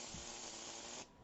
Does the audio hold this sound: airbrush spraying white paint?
yes